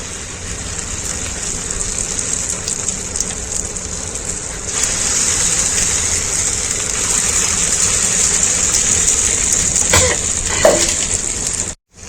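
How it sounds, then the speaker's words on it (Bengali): Red lentil fritters dropped into hot oil give a steady, rain-like crackling hiss that swells after a few seconds and carries on evenly, with a couple of brief clatters near the end. "তেল গরম হয়ে গেছে, এবারে একটা একটা করে বড়া ছেড়ে দেবো।"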